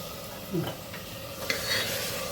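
Pigeon peas being sautéed in a pan for Nagpur-style masale bhat, soft sizzling under a few scraping stirs of a spoon against the pan, close and quiet.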